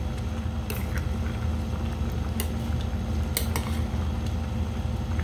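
A pot of ginataang manok, chicken simmering in coconut milk with potatoes, being stirred: a low bubbling simmer under a few sharp clinks of a utensil against the pot.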